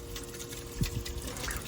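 Water flows steadily through a cold plunge chiller's pump and filter, a faint continuous trickle with a low hum and a few soft gurgles.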